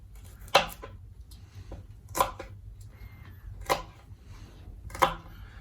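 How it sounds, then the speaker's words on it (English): Knife chopping the sprouts off green onions for a cabin deer hash, four sharp, separate cuts spaced about a second and a half apart, close and crisp over a quiet room. "Now I'm just going to grab some of the green onion. Really with this, I just want to cut off the sprouts."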